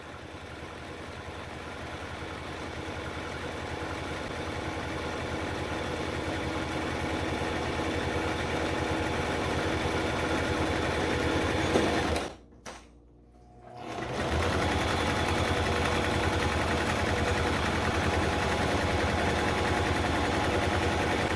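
A sewing machine runs a straight line of stitching on a cloth face mask with a steady, even mechanical whir. It stops briefly about halfway through, then resumes at the same pace.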